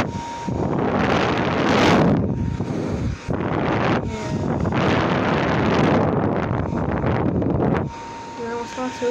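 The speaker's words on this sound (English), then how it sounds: "it's a little plastic blower. It's pretty strong. And let's go ahead and power it up. It's only 1 speed." A small plastic single-speed blower fan runs close to the microphone with a strong, rushing whoosh of air that surges and buffets in uneven gusts, dipping briefly before roaring again.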